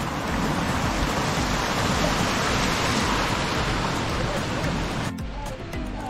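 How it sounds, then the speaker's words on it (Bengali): Roaring rush of water from a small cascade near the entrance to Bamni Falls at Ajodhya Pahar, a loud continuous broadband hiss that drops away sharply near the end. "এরকম ঝর্ণা"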